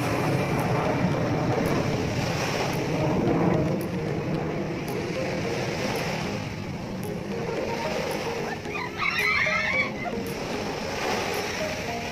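Ocean waves wash steadily at Sunny Bay beach in Hong Kong, a continuous broadband surf rumble heard nearby, with brief faint voices partway through.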